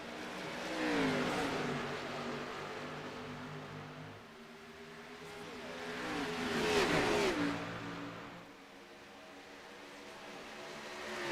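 Race cars in a GT Sports racing video game accelerate off a green-flag start, engines revving up in two loud surging waves with rising whine, then settling into a steady drone.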